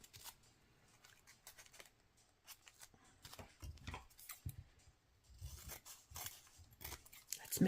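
Scissors cutting a paper butterfly for a teal grunge junk journal tag, with quiet irregular snips and rustles that grow louder and busier toward the end, close by with no talk.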